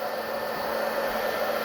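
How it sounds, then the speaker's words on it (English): A household hair dryer blows a steady, even whoosh with a faint motor whine while heating the glue under a BMW R1200RT motorcycle roundel, close and constant throughout. "This is my wife's hair dryer, and I do have permission to use it."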